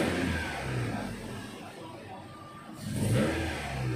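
A car engine that sputters on starting after sitting, fitted with new spark plugs and plug cables, revs unevenly in a close, moderately loud roar that dips briefly and then swells again.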